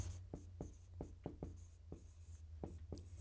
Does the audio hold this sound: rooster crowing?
no